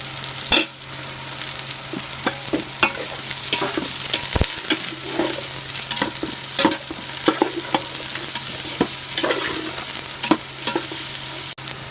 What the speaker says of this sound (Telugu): ఎర్రగడ్డ ముక్కలు, పచ్చిమిరపకాయలు వేసి వాడుకోవాలి.